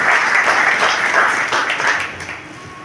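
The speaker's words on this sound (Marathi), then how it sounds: "जोरदार टाळ्या वाजवून" Audience clapping to welcome a guest at a felicitation ceremony, a steady dense wash of applause that holds strong and then thins and fades toward the end.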